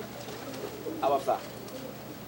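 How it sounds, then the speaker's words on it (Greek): Golden Donek pigeons give two short, soft coos close by, heard under someone talking in Greek. "Εγώ δεν έχω δει πιο καλά περιστέρια από αυτά εδώ"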